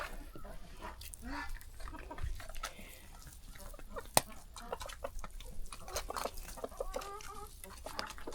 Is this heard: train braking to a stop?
no